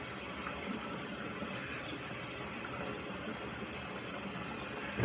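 Warm water running steadily from a tap onto a facial cleansing brush, a soft continuous hiss and splash at low level, with no talking.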